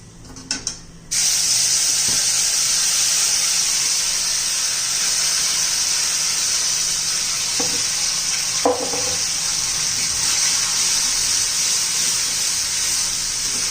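Ginger chutney dropped onto fried, browned dal in a hot oily pan sets off a sudden loud sizzle that continues steadily, with a few light stirring knocks and no talk.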